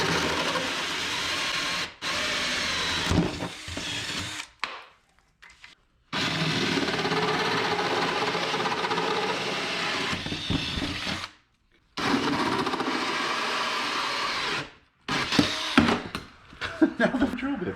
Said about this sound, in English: that's my hole saw. It's a 2 1/8 hole saw.